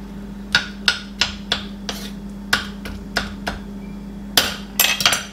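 A knife chops a tamarillo (tree tomato) on a cutting board, making about a dozen crisp, sharp taps in an uneven rhythm, with a quick cluster of cuts near the end.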